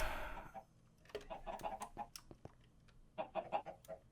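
Chickens cluck in a video game, a flurry of short, sharp clucks in irregular bursts, some close and some fainter, with no talking.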